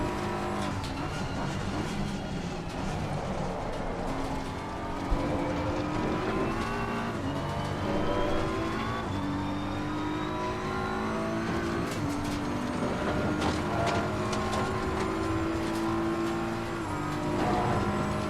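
A GT race car lapping Kyalami, Laguna or the Nordschleife in Assetto Corsa Competizione: the engine howls through rising gear pulls, repeated upshifts and revs, with occasional tire squeal, loud and close throughout.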